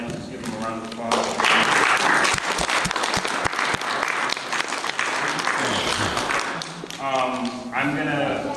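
A city meeting audience claps for the panelists in a sustained round of applause, with voices heard at the beginning and again near the end.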